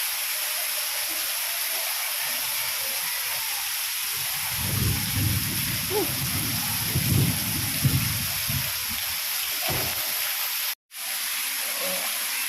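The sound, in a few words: heavy rain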